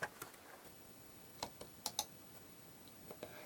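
Sharp computer mouse clicks come singly and in a quick double click as someone opens folders in File Explorer, faint and close against a quiet room with no talking.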